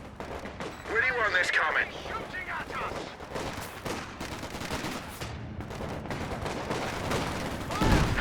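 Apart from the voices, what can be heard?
artillery fire in the Company of Heroes 2 video game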